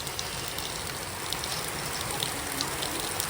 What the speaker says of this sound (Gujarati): કેવો મસ્ત વરસાદ આવે છે ને.